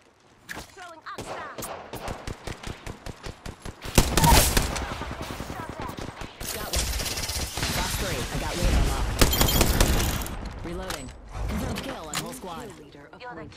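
Apex Legends gunfire: steady rhythmic single shots build into sustained automatic bursts with shattering impacts and mechanical clatter, loud and close, with game voice lines mixed in.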